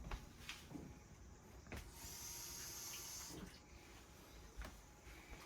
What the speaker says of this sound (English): Let me put some water.